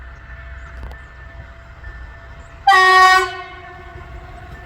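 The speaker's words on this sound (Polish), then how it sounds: "To jakiś taki autobus szynowy." A rail bus on the Miłkowice–Żary line sounds one loud sustained horn blast in the middle, near a level crossing, over a low rumbling background that is otherwise quiet.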